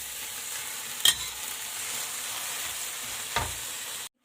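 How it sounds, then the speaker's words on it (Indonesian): Napa cabbage stir-fries in hot oil with a continuous bright sizzle and two brief spatula scrapes, the frying cutting off abruptly at the end. "minyak lagi buat tumis sawi putihnya ya guys. Tumis sampai matang."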